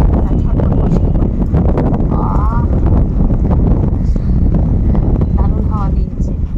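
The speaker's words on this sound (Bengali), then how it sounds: "দারুণ হাওয়া দিয়েছে" Strong wind gusting across an outdoor microphone, a loud, steady low rumble with short buffeting bursts, with birds chirping faintly now and then and a voice talking over it.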